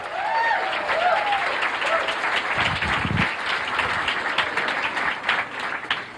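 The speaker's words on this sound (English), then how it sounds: "Let's have a nice round of applause." Studio audience applauds a comedian coming on stage on a 1988 TV comedy show, a steady wash of many hands clapping for about six seconds with a few voices and whoops rising over it.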